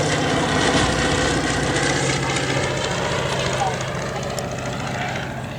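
Sopwith Pup biplane's rotary engine drones steadily through a low, fast pass at an airshow, a loud continuous broadband roar that slowly fades toward the end, with someone talking over it.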